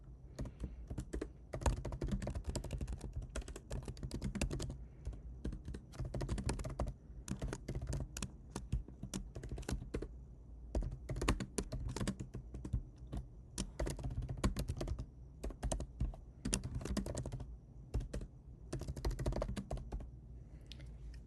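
Rapid, continuous typing on a computer keyboard while writing a C++ program on a Mac, close and steady, with dense key clicks and brief pauses between bursts.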